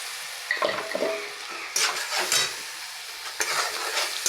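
Chili powder and tomato paste fry in a pan with a close, crackling sizzle, broken by repeated scraping stirs in short bursts, with no voices.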